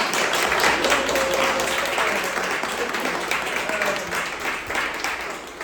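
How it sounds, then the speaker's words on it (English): A room full of listeners at a panel on Korean diaspora art and shamanism bursts into a sustained round of applause, dense and steady for several seconds, with a brief voice faintly audible beneath the clapping. "So can we get a round of applause?"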